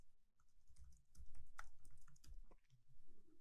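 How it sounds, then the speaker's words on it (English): Quiet, rapid clicks of a password being typed on a computer keyboard, a soft irregular flurry of keystrokes under faint background noise. "in this box, type a password for the admin user"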